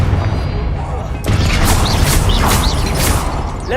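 A Confringo fire spell explosion from a video game, a loud sustained booming burst that kicks in abruptly and rumbles on with crackling, whooshing flurries over dense background game noise.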